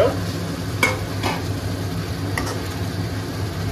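A whole fish in hot oil in a pan gives a low, steady sizzle throughout, with a few light taps of a utensil against the pan.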